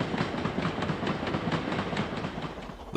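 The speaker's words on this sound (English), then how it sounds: "At Milnrow Station, 45112 bursts into view on the daily Carlisle to Oldham empty van train." Steam locomotive 45112 passes Milnrow Station in 1963 hauling the daily Carlisle to Oldham empty van train, a loud, close rolling rumble with a rhythmic clatter of wheels running steadily throughout.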